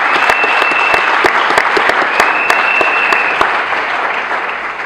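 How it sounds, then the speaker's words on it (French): A crowd at a political rally commemorating the liberation applauds loudly and continuously, dense clapping with a few sharp individual claps standing out, and a whistle rising briefly twice. "Est-ce qu'on peut acclamer encore pour lui?"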